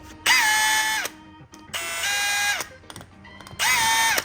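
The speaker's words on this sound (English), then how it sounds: "the bit drills a hole perfectly in the middle" A power drill with a self-centering Vix bit bores pilot holes into a door hinge, three loud whining bursts of about a second each, separated by short pauses with faint handling noise.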